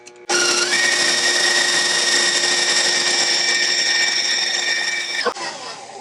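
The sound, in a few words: electric mixer whipping egg whites to stiff peaks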